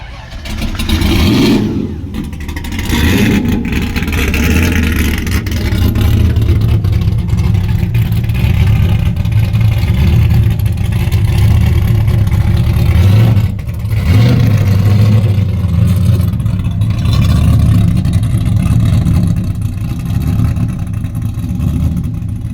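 A car engine drives and revs loudly for a long stretch, droning steadily with a few sharp bumps and knocks, heard from inside or close by, with people talking faintly under it.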